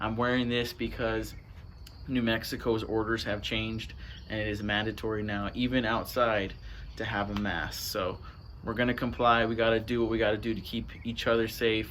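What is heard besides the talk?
No everyday noises stand out.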